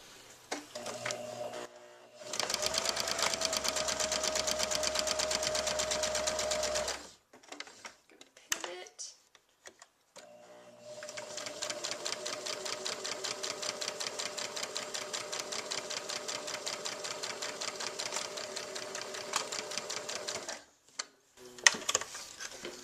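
A sewing machine stitches an appliqué leaf outline in two long steady runs of rapid, even needle rattle, separated by a pause with a few soft clicks and a short burst near the end.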